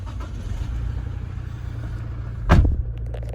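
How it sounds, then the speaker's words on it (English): A 2020 Toyota Landcruiser GXL+ wagon's engine cranks and catches with a sudden loud burst, then settles into a steady low idle rumble, preceded by a constant low-frequency hum. "just going to start the vehicle up."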